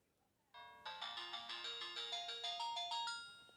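A Samsung E1200 mobile phone plays a cheerful polyphonic melody ringtone, a quick run of bright, rhythmic notes that starts abruptly and keeps climbing, close, clear and piercing with no voices.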